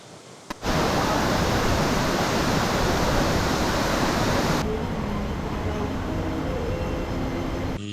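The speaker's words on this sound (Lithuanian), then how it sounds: "Ir su tom rogutėm nusileidom prie tokio krioklio dabar." A mountain waterfall in Vietnam, reached by a sledding track, roars as a steady, loud broadband rush that starts abruptly after a brief moment and continues unbroken, easing slightly in the second half.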